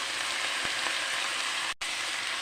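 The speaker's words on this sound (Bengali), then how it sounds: "এখন আমি হালকা করে ভেজে নেব" Winter vegetables frying lightly in ghee in a pan for khichuri, a steady close sizzle throughout with a brief stir-like dip near the end.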